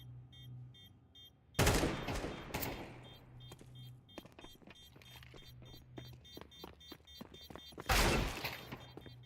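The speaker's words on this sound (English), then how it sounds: "Another deagle headshot from Friend." Desert Eagle gunfire in a competitive multiplayer shooter match with AKs and a Tech 9: two loud bursts of shots seconds apart, with sharp clicks, rapid shots and footsteps in between.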